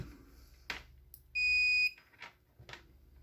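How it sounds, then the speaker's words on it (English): A multimeter gives one sharp, high continuity beep of about half a second while probing a guitar pedal power supply, set between soft clicks and handling taps of the probes. "I'm just gonna probe it to make sure, and this is something you can do yourself with your multimeter"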